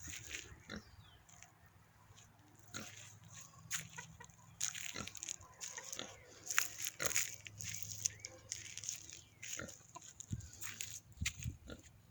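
Farmyard animal sounds: pigs grunting and chickens clucking in scattered bursts throughout, moderately close, with no talking.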